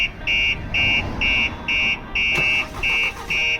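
A Starline Solaris aftermarket alarm wails on a VW Transporter van, loud pulsing siren beeps in an even repeating rhythm, close up, with a sharp click partway through.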